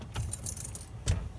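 A key turns in the ignition of a campervan with a short jangle of keys on the ring, two small clusters of clinks over a low background hum.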